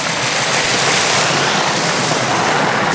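A small waterfall on a river pours in a steady, dense broadband rush, close and continuous throughout with no talk over it.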